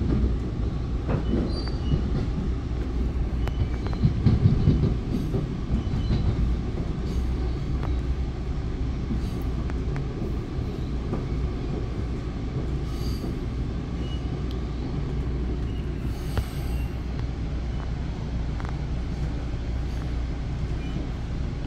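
An Exo commuter train on the Candiac Line from Lucien-L'Allier station rumbles along from inside the car, with a continuous low roar and occasional wheel clatter and faint squeals.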